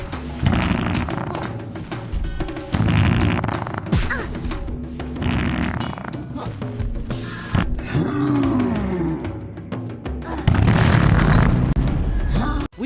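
Cartoonish fart-bomb blast from a ninja fighting video game, a loud blurting burst amid continuous booming game effects and music that swell again near the end.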